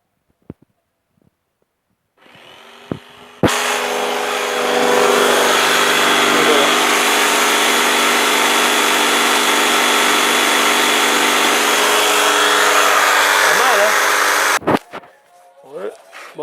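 A homemade, removable table saw built from salvaged scrap parts starts up and runs as a steady, loud motor whine for about eleven seconds, then cuts off abruptly. Only faint noises come before and after it.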